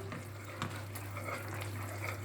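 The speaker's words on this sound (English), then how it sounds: "So we're just going to stir this around." Beef is stirred in a stock-enriched sauce in a pan, giving a steady close sizzle with soft scraping and clinks that runs continuously throughout, with no voices.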